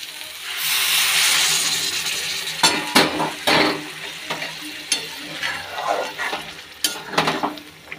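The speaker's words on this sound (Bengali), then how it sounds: "গরম জলটা দিয়ে দেবো।" A potato and plantain curry fries in oil as hot water is poured in, a hissing surge of steam followed by stirring scrapes and clinks of a utensil against the pan, close and alone.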